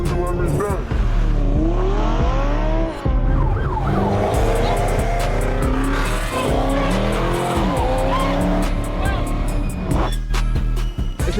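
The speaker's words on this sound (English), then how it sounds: "It's when cars drive recklessly on highways, causing near misses or weaving through lanes." Cars race recklessly along a highway, engines revving hard with repeated sweeping tire squeals and skids, loud and close, while a person talks over the action throughout.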